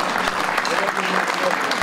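A crowd applauds at a regional rally event, giving a brief burst of close, steady clapping from many hands, with a voice briefly speaking over it.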